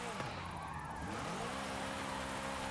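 A drift-tuned car in Forza Horizon 5 revs and shifts, its engine note dipping and rising with brief tire squeal, heard close and steady at moderate loudness under faint talk.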